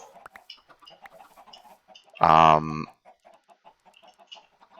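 A single loud cluck from a Minecraft chicken stands out for about half a second over faint, scattered clicks and rustles from the game, with a brief spoken word near the start.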